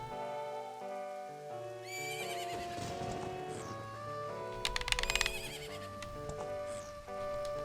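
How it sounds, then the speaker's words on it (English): A horse neighs loudly in a whinnying burst in the video game Majora's Mask 3D, accompanied by hoof clip-clops and layered musical tones in the background. "Isn't that your horse?"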